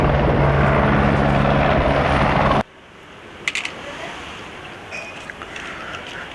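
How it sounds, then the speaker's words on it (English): Army helicopter rotor and engine noise, a loud steady broadband thrum for the first two and a half seconds, then cutting abruptly to a quiet background with a few faint clicks. "Wow, this is army helicopter, guys."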